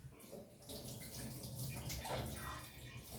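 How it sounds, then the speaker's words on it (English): Running tap water splashes steadily over hands at a kitchen sink, a continuous close rushing wash with no talk, while preparing chicken pakora. "then I'll wash the hand"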